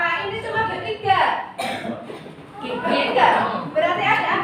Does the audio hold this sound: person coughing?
yes